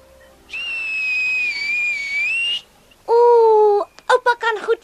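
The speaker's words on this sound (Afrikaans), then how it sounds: "Ooh, oupa kan goed fluit." An elderly man whistles a tune, a long clear sustained note with slight pitch wobble, then after a short pause a second held note and a quick run of short chirpy whistled notes, near and loud.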